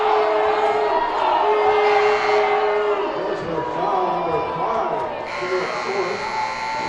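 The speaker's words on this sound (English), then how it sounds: "the crowd letting the officials hear it" Loud, sustained crowd roar and jeering in a high school basketball gym directed at the officials after a fifth foul, with a buzzer-like tone and announcer talk over the noise.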